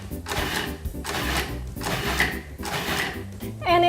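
Blender pulsing a chunky green onion and cilantro sauce with lemon, salt and water, in several rhythmic whirring bursts with brief pauses between, fairly close, ending in a clatter.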